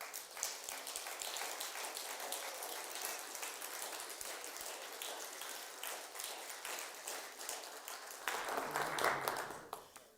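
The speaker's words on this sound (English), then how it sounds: "I love it when you guys clap" An audience claps steadily at a Sunday stream gathering, with dense, continuous applause from many hands that holds at a constant level and swells slightly near the end.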